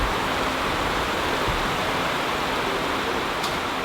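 Heavy downpour of rain with wind on a farm, a dense, loud, unbroken hiss that stays constant throughout, with no voices.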